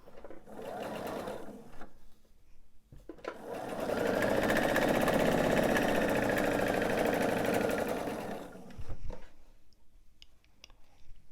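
A sewing machine stitches quilt blocks in one steady run of about five seconds, with shorter bursts of stitching before and after it. The sound is close and fairly quiet, and no one talks.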